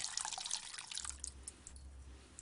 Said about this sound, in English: Just pour off this poaching liquid so that the flavours